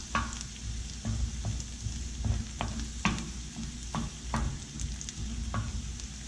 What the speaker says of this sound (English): stirring it slowly. Why slowly? We want it to have some pan contact.